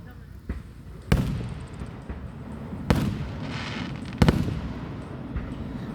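Fireworks at a July 3rd show in Montgomery build toward the finale, with three sharp, loud booming bursts spaced a couple of seconds apart, each trailing into a long echoing rumble over steady crowd murmur.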